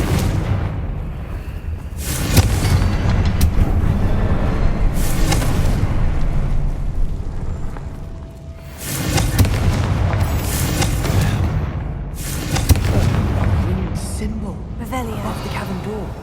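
Confringo blasting spells from Hogwarts Legacy erupt as several heavy, booming explosions spaced seconds apart, each a loud broadband burst that rolls off over a busy game soundscape with voices at times.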